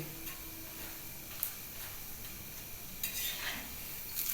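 An egg paratha with green peas fries on a hot tawa griddle, giving a soft, steady sizzle with a few light scraping and clicking touches, fairly quiet throughout and with no voices.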